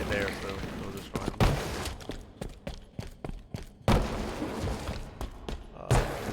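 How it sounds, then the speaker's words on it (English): Grenade throw and blast in a Halo Infinite Livefire match, heard amid a dense run of game gunfire, thuds and booms with several sharp loud impacts, partly under talk. "I'll just hold here and watch rat tunnel, and then if they go in the hill, I'll throw this nade"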